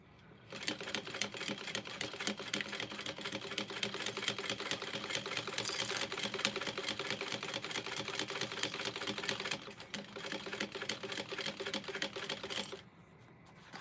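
A sewing machine stitching a fabric shoulder bag, a fast steady rattling drone of needle strokes running close and continuously for several seconds before stopping abruptly near the end.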